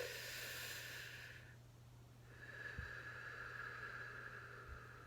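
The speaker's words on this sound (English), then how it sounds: "The first one is a natural and relaxed breath, as though you are sleeping." Slow, relaxed breathing as though sleeping: one soft airy inhale, a pause, then a long gentle exhale, close and quiet over a steady low hum.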